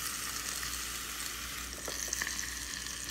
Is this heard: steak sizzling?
yes